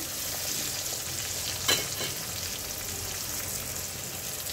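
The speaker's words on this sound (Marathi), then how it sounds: "आता याला थोडंसं होऊ द्यायचं टोमॅटोला" Tomatoes cook in a pan for a puffed rice (murmura) breakfast, giving a steady, fairly quiet frying sizzle throughout, with one brief utensil clink or stir partway through.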